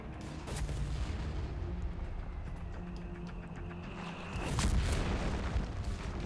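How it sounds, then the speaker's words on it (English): Mortar fire in a Company of Heroes 3 two-versus-two battle, distant booming thuds over continuous rumbling battlefield ambience, with a heavier burst of explosions toward the end. "Mortar dislodging the MG42."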